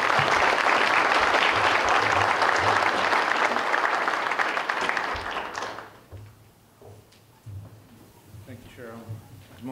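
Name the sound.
audience applause welcoming conference speaker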